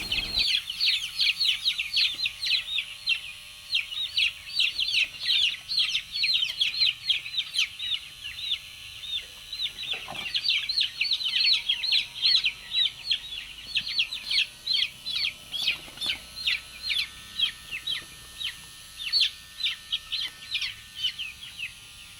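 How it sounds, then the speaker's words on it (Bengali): Many chicks on a poultry farm peep in rapid, high, overlapping bursts, a busy nonstop chorus close by with a faint low hum beneath and no speech. "আমরা দুইজন মুরগির বাচ্চা ধরব যত তাড়াতাড়ি হয় আর কি"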